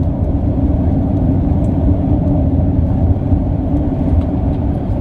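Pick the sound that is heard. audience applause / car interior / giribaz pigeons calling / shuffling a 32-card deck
car interior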